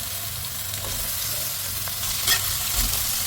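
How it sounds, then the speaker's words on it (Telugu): Onions frying in oil with cinnamon and other whole spices in a pot for a Telangana-style chicken fry, a steady close hiss and sizzle with occasional stirring scrapes and no talk. "ఆనియన్స్ మంచిగా ఆయిల్లో ఫ్రై కావాలి"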